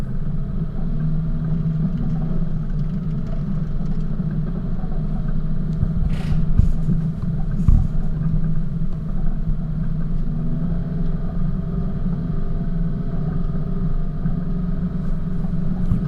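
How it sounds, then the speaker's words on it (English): A four-wheel-drive vehicle held in first or second gear low range, engine braking down a steep track descent toward a valley station on the upper Murray. Its steady low rumble runs continuously throughout, fairly close, with a couple of brief knocks midway and no talk. "You probably hear the car working there."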